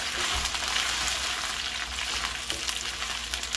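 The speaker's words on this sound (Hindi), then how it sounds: "इसमें डालते हैं अपनी भिंडियाँ और इनको कर लेते हैं अच्छे तरीके से फ्राई।" Okra pieces frying in hot oil in a pan, a steady dense sizzle and crackle running throughout at close range, with no one talking.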